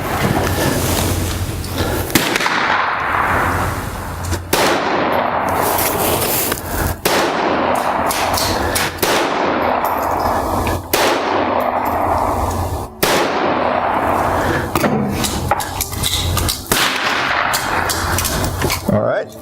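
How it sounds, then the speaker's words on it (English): Firearm shots at target practice on a range, sharp broadband reports roughly every two to three seconds, with an instructor talking between and over them. "Okay, go ahead, shoot one, and then I'll load it for you."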